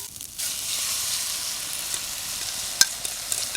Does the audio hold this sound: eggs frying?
yes